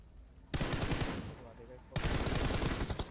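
Rapid automatic gunfire from the PUBG BGMI video game comes in two long, dense bursts separated by a short lull, loud and close.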